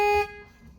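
A car horn sounds once from a Chevrolet Sonic Turbo while an airbag is slid into place, a loud, short tonal honk that cuts off quickly, leaving a low hum of the garage.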